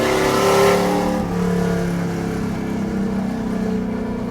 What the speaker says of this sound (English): it sure changes the tone of it when you open those cutouts,